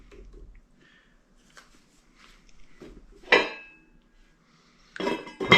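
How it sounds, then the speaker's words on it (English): A lid goes onto a pot of simmering beef tips, with soft kitchen rustles followed by a few bright metallic clanks and clinks, close and distinct against a quiet background. "Put the lid on there."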